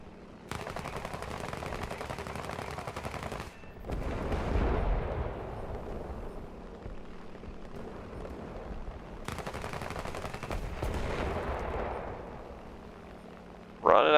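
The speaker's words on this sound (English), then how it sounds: "That machine gun was in there." Machine gun fire in War Thunder air arcade combat: two long, dense rattling bursts, each ending in a heavier booming blast, separated by a quieter stretch of engine drone, with a loud crack at the very end.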